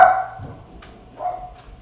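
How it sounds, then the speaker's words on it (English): Dogs barking nearby: two sharp barks about a second apart, loud and close, with nothing else audible in between. "dogs are going crazy."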